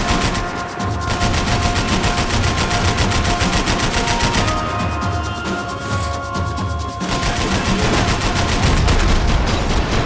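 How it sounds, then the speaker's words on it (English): Dense, sustained automatic gunfire from Max Payne 3, loud and continuous across the whole stretch, with rapid overlapping bursts and crackling impacts, some brief dips around the middle before the shooting surges again. "I can't concentrate with bullets whizzing past my head!"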